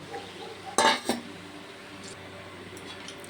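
A metal utensil clatters briefly against a cooking pot of salted boiling water, one sharp cluster of clinks followed by a quieter knock, then low kitchen background.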